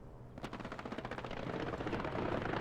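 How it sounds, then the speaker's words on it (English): Rapid aircraft strafing gunfire from a strafing run in the World War II shooter Hell Let Loose on the Omaha map, a dense, loud stream of bursts that builds and carries on without a break. "just a strafing run coming in"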